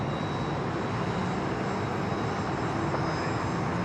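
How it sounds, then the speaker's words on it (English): Aircraft engines roar continuously at Sydney Airport as planes move about, a dense steady rumble with a faint whine, heard without any voices. "Look, folks, just count all these aircraft moving."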